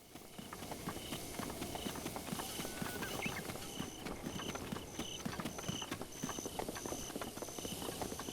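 Rapid, rhythmic clip-clop of horse hooves at a steady gallop in the video game Zelda: Breath of the Wild, close and continuous, with faint chiming tones in the background.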